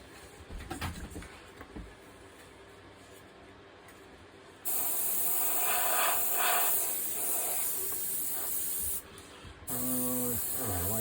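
Airbrush spraying opaque white paint for a realistic flame design, a steady close hiss starting midway and running several seconds with a brief break near the end, after softer fainter hissing.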